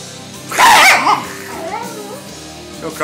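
An angry Jack Russell terrier barks and yips in a loud, sharp burst, then keeps up smaller whining yips close by, with a person talking to it in between.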